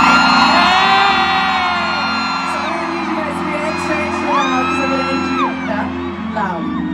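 Concert crowd in Manila cheering loudly at a show, a sustained roar of whoops and high-pitched screams from a huge audience, with rising and falling shrieks layered over a constant crowd wash.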